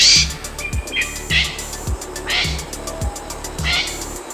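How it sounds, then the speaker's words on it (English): A golden pheasant repeats short raspy calls mixed with low boop-like notes in a regular rhythm, about one every half second, close and clear with faint background hiss. "we have this bird's call, which sounds similar to a raspy chicken, and also a variety of boops and other sounds"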